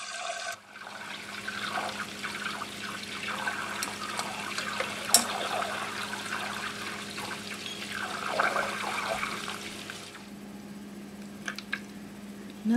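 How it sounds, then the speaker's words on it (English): Butter simmering over a low flame as it clarifies into ghee gives a steady, soft bubbling and sizzling hiss that runs continuously at moderate level, with a faint low hum beneath and no talking. "We have to boil this in the low flame until we get a nice golden brown liquid."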